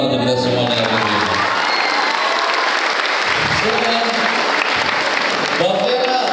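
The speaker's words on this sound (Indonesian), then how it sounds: "Tepuk tangan untuk kita semuanya." Crowd applause with some cheering at a school flag ceremony broadcast, a loud, continuous wash of clapping, with a voice speaking briefly at the start and end.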